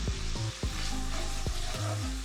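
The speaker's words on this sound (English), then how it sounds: "We're going to use that fat there to cook our onion in. So we've got half an onion going in." Half an onion frying in rendered bacon fat for homemade baked beans, making a loud constant sizzle close up, cut by several brief scraping stirs of a utensil in the pan.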